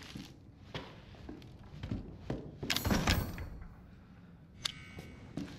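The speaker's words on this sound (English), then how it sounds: "every door is always locked on this game" Locked door being tried in the survival horror game Resident Evil 7: Biohazard, a series of muffled thunks and rattles, with a denser cluster of handle jiggling in the middle and a sharper knock near the end.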